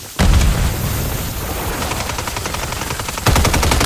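Loud, dense video game firefight: sustained rapid gunfire and booming blasts, including a grenade explosion, run throughout with a fresh heavy burst near the end.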